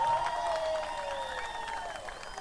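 A crowd at a united opposition political rally in Ukambani claps and cheers in a sustained wash of applause, with whistle-like tones and scattered voices mixed in, at moderate loudness throughout.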